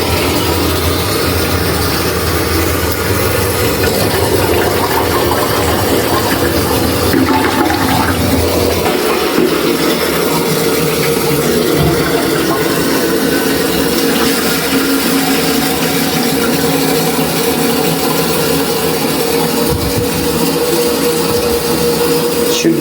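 A toilet flushes with a loud rush of water, then the tank refills steadily through a newly fixed filler valve, a continuous hiss of running water lasting over twenty seconds.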